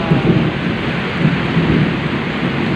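Heavy rain during a thunderstorm, a loud, dense, continuous roar of downpour with low rumbling throughout.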